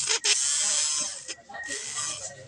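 A 2003 Kia Avella engine cranking over on a test, a buzzy, whirring churn with brief dips and restarts, loud and close, heard without talk.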